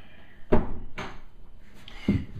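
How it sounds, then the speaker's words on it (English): An interior door is closed in a room where a tarantula sling is being packed for shipping: a sharp thunk, a second knock shortly after, then a final solid clunk, close and fairly loud. "I'm just gonna close the door."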